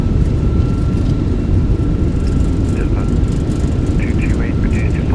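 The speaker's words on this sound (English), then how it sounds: "Nose down gently, reversers are out, decelerating." Steady loud engine roar with the thrust reversers deployed on an Airbus A320 in a flight simulator game, heard during rollout after landing as a constant broadband rumble with faint cockpit chimes above it.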